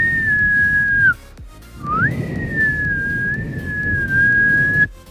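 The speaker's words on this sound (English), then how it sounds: "When it comes to me whistling, this is all I can do." A single person whistles a steady, sustained tune with a brief pause and a rising slide, clear and close over a low background rumble.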